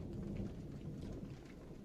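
Thunder rumbling during a dry storm with only light drizzle: a low, continuous rolling rumble, fairly faint and distant, steady across the short stretch with no voices.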